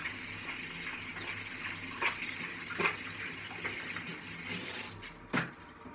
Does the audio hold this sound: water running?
yes